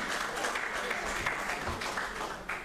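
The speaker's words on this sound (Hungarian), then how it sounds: "Tapsoljuk meg őket" An audience at a health lecture claps for participants who exercise, a steady, dense round of applause from a room full of people, with faint murmuring underneath.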